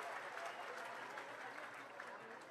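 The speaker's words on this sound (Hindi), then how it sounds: "जोरदार तालियां अपने लाल मुख्यमंत्री जी के लिए।" A crowd at a public event with the Madhya Pradesh chief minister, Shivraj Singh Chouhan, claps in dense, sustained applause that stays even throughout, loud and close.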